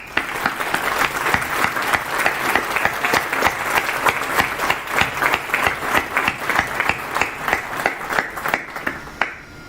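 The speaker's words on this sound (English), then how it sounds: "Let's give them a round of applause." Graduation ceremony applause from a crowd, a dense wash of clapping with many sharp individual claps standing out, sustained and fairly close for the whole stretch before tapering at the end.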